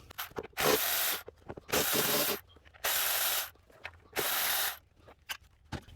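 A ratchet loosening the 10 mm ignition coil bolts on a Toyota 4Runner 4.7L V8, four distinct bursts of rapid close clicking separated by short pauses and small handling knocks.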